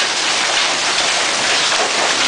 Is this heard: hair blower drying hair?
no